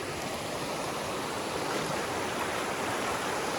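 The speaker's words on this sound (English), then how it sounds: "The water's moving pretty fast." Fast-moving stream water rushes steadily during a river crossing on a trail thru-hike, a loud, continuous broadband wash with no pauses, close by.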